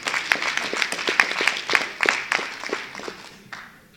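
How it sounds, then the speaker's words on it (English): Town hall meeting audience applauding a speaker, a burst of scattered hand clapping from a modest crowd that fades after a few seconds. "Give him a round of applause"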